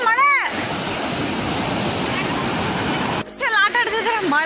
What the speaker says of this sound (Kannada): ಆಟ ಆಡ್ತಿದ್ರೆ ಮಳೆ ಬರ್ತಾ ಇದೆ ಗುರು